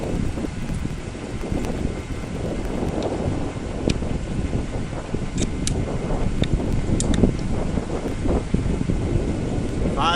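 Steady outdoor wind buffets the microphone for about ten seconds during an air rifle speed and power test, a continuous rough, broadband rush with no talking.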